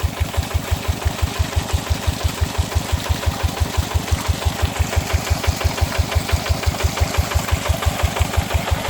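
Tractor engine modified to drive a water pump, running steadily at a fast, even idle with a regular chugging knock, close and loud, with no talk.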